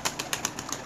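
A pigeon takes off with a quick burst of rhythmic wing flaps, close and fairly soft. There are no voices.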